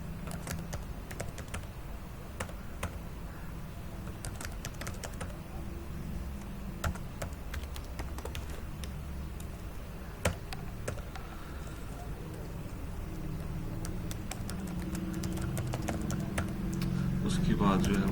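Dummy data being typed on a computer keyboard during a mail merge lesson, a steady run of light key clicks with a few sharper taps over a low background hum.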